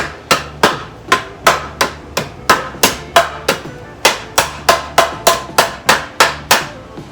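Hammer blows on the rusty rear frame rail of a 1970 Challenger under restoration, about twenty sharp metallic strikes in a steady rhythm, each ringing briefly before the next, loud and close with no talk.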